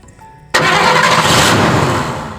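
A car engine cranks and fires abruptly, then settles into a loud, close idle that fades slightly toward the end, with no talk over it.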